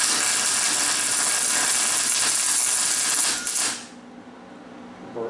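Wire-feed welder running a bead on a dirt late model chassis frame rail: a loud, steady crackling sizzle, close by, that stops abruptly after about three and a half seconds and leaves a quiet workshop.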